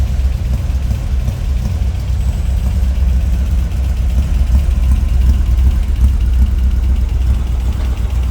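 A 1966 Volkswagen Beetle with a rebuilt dual-carb flat-four engine idling, a loud, steady low rumble with a slight chugging texture, close and continuous with no talking.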